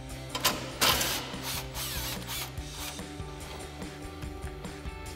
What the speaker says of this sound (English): we'll grab our 15 mil socket on our impact and go ahead and run that bolt out